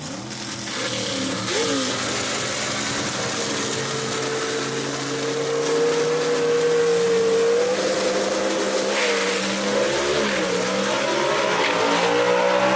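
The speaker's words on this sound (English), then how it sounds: "Good drag race right here." Gasser drag race cars roar down the strip at Kil-Kare Dragway, their engines loud and sustained with rising and falling pitch as they accelerate, and a brief tire chirp comes early on.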